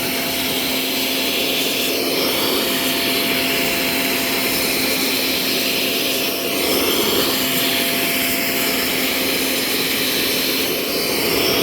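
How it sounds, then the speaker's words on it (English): A Vogma Vmonster portable 2-in-1 vacuum cleaner sucking up dust, a steady close high-pitched whine and airflow rush that holds constant throughout. "It's sucking the dust right out of there."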